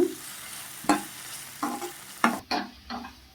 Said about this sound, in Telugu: చింతపండు అయితే యాడ్ చేసుకుంటున్నాము ఆయిల్లో ఇది కూడా చక్కగా మగ్గి మెత్తబడిపోద్దండి